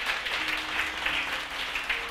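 Church congregation applauding at a Tamil sermon, a steady wash of many hands clapping at moderate level, fairly distant and even throughout with no voices over it.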